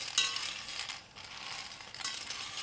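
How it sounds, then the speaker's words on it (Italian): Dry pasta toasting in a hot pan with no fat added, giving a soft, irregular crackle and rustle of pieces shifting and stirring, fairly quiet and steady with a brief lull midway. "la tostatura che io normalmente faccio col riso, in questo caso la faccio con la pasta"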